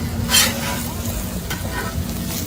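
Birria tacos flipped on a Blackstone griddle sizzle and crackle loudly and steadily, with a brief scrape of the spatula near the start.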